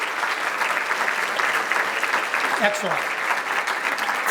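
An awards-night audience honoring past award winners breaks into sustained applause, a dense, even wash of clapping filling the hall while someone speaks briefly over it.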